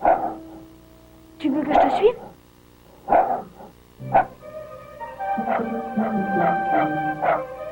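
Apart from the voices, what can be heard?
dog Fripouille barking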